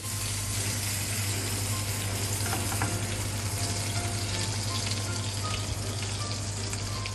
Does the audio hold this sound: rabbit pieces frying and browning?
yes